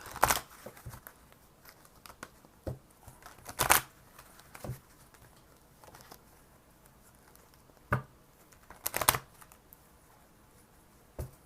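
Angel cards being shuffled for a Virgo love tarot reading: soft, sparse riffles and papery taps in scattered bursts, faint and close, with no talking.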